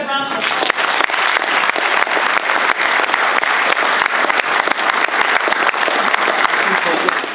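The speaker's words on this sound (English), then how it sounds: "Let's give these guys a round of applause." Applause from an audience at a football awards event, steady loud clapping close by with sharp individual claps standing out, lasting throughout with little else beneath it.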